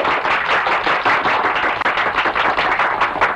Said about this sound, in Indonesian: Tepuk tangan untuk Bapak Baron von Holik Widago